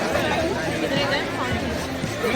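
Dense crowd chatter at the Taj Mahal entrance in Agra, with many overlapping voices forming a steady, close hubbub that fills the whole stretch with no single voice standing out.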